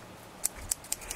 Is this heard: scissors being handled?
yes